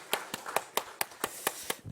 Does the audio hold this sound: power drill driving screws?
no